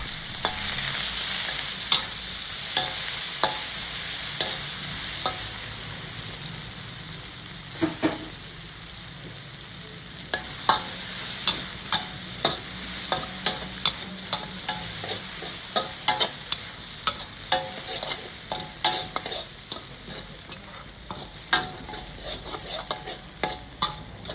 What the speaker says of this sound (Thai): น้ำมันร้อนเราก็เอาพริกกับกระเทียมลงไปพัดได้เลยค่ะ